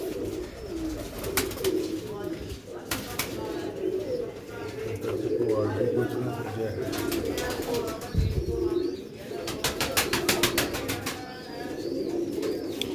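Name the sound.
Sialkoti rooftop pigeons cooing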